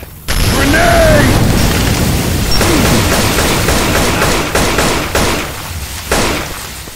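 A grenade goes off in the Left 4 Dead 2 video game, a loud, close blast that rolls into sustained booming rumble and scattered gunfire for several seconds, with voices calling out over the din.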